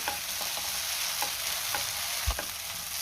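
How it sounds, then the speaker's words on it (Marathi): A raw onion masala fries in oil for paneer masala, with a steady sizzle throughout and soft scraping stir strokes recurring every half second or so. Close and continuous, with no voices. "आपल्याला असाच मसाला परतून घ्यायचा आहे कारण आपण यामध्ये कच्चा कांदा वापरलेला आहे"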